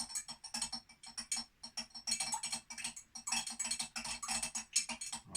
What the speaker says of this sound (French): Donc, je vais bien touiller.